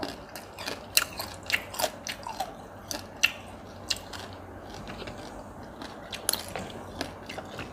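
Someone bites into and chews crunchy grilled yellow field crab, with sharp crisp cracks at an irregular pace, close up, and quieter chewing between them; no speech.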